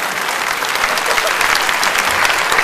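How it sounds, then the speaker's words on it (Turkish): A television talent show audience applauds a magic and hypnosis performer with dense, steady clapping throughout, loud and close, with a few cheers in the crowd. "Sunday Bey'i alkışlarla kulise uğurluyoruz."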